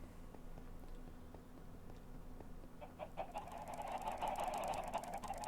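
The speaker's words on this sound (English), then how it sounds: "Oh, the chickens." Chickens in a blocky sandbox video game cluck in a faint, scattered sequence, then a louder burst of clucking and squawking rises over background hum.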